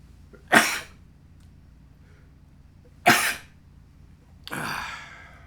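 Three separate bursts of a sneeze-like sound from taking dry snuff, two sharp and a longer final one, spaced a couple of seconds apart over a low steady background hum.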